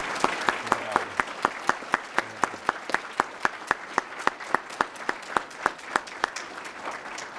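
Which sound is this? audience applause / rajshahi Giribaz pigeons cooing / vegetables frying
audience applause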